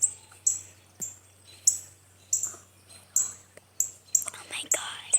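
A baby bird chirps in a series of sharp, high, close peeps spaced about every half second, with soft whispering and rustling between the calls.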